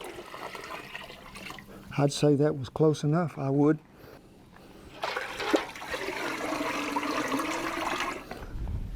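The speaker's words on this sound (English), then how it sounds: "we're going to go ahead and put us some water in here, see what it takes to fill this thing up to where we can fry." Water runs steadily into a turkey fryer pot being filled for frying, a continuous pouring wash heard close up after someone speaks briefly.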